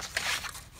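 Card stock being cut for card making, a short, close, papery snip-and-crunch lasting under a second, quiet and alone.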